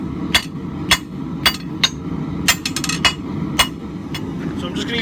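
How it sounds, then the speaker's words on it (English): Hand hammer forging a taper on 1045 steel round bar, sharp ringing blows landing close and loud at an irregular pace of about two per second, with faint background noise between strikes. "So I'm just going to start forging out this taper."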